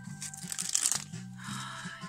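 A Panini Ice Age 3 sticker packet is opened by hand, giving close, crinkly tearing and rustling foil in short bursts, with a voice partly audible.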